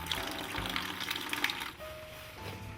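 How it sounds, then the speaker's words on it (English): Water draining out of the boiler of an 1896 steam motorcycle, a steady splashing gush with hissing texture that thins out partway through, heard up close with no talk. "I'm just draining some out of the boiler, because it siphoned into the boiler"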